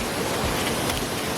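Steady broadband rush of creek water spilling over small waterfalls in Georgia, a continuous even roar close by with no breaks or voices.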